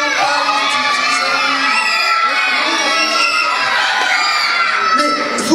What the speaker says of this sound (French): Mais vous parlez tous en même temps, moi je dis, faut pas crier